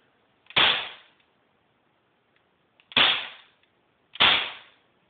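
Three sharp shots from a Crosman P10 BB pistol, each a close crack with a quick fading tail, spaced unevenly with quiet between them.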